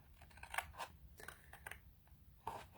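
Scissors snip through cardstock along score lines while assembling a Stampin' Up! card holder box, giving a few close, crisp cuts in irregular rhythm with short pauses between them.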